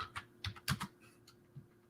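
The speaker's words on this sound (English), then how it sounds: "My one-handed typing where I can't reach." Close keystrokes on a computer keyboard typed with one hand, scattered uneven taps that cluster briefly and then thin out, with no one talking.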